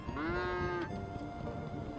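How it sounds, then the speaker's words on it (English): A cow moos once, loud and close, with a long sliding low call in GTA Online, followed by a quieter fading tail over faint background ambience. "We just see a whole bunch of cows."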